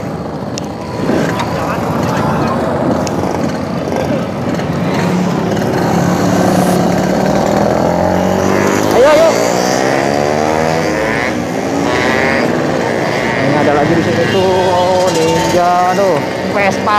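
Two-stroke motorcycles and a Vespa ride along a road toward Jatigede, Sumedang, their engines buzzing and revving loudly and continuously close by while a rider talks over them.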